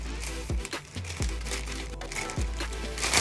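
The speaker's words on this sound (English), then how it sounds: "I'm about to just bust this open with this scissors." Scissors cutting open a plastic-wrapped package, with crinkling and rustling plastic and several sharp snipping crunches close up.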